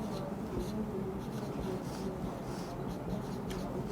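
Pen scratching across paper as a physics definition is written down in a lecture, a continuous soft scraping with short strokes, close, over a steady room hum with occasional speech.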